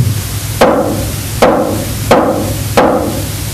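Drum struck with piston strokes, four sharp even hits about three quarters of a second apart, each a loud close crack with a short ringing decay, no talk.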